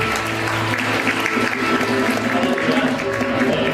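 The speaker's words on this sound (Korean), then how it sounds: "우리에게 은혜를 주신 하나님께 큰 박수로 나가겠습니다." A church congregation at a Korean service in Vancouver in 2013 claps loudly and densely, and a murmur of voices and some tonal sound run underneath the applause.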